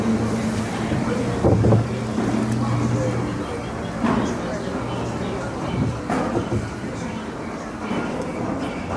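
Boat ride at Disneyland setting sail on water: a loud, steady rushing and churning wash with low rumble running throughout, no talking heard.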